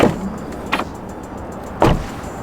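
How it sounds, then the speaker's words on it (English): A Tesla Model 3 Highland door shuts with a firm thud, then after a pause a 2021 Model 3 Long Range door closes with a second, heavier thump, both close by with a quiet hum between. "check out the door on the new Model 3"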